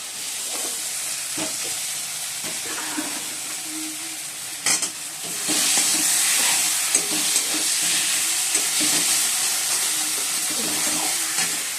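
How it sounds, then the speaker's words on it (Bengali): Fried potatoes go into a sizzling masala of cumin, Kashmiri chilli and turmeric, with a constant hissing fry under repeated scraping stirs of a spatula against the pan, growing louder partway through. "এবার আলুগুলো দিয়ে দেবো, এই আলু ভাজাগুলো"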